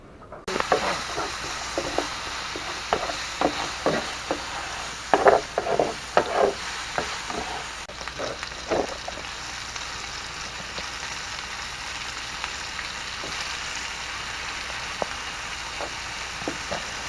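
Coral mushroom frying in a pan with garlic, butter, bacon and onion gives a steady close sizzle, broken by irregular clacks and scrapes of stirring, with no talk over it.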